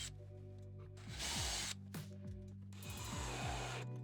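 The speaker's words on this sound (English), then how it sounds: "just piloting into the next cabinet and screwing from the backside" A power drill drives screws through kitchen cabinet face frames, several short whirring bursts whose pitch swoops as the motor spins up and slows, close and alone.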